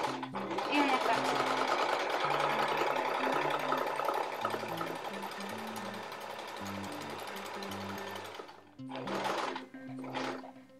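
A domestic sewing machine stitching an embroidered baby bib runs in a steady, loud whirring burst for about eight seconds, stops, then gives two shorter runs, with a voice speaking over the motor.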